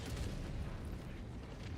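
A heavy explosion in the video game Helldivers 2 comes through as a dense, rumbling roar that stays loud and steady for nearly two seconds, with no speech over it.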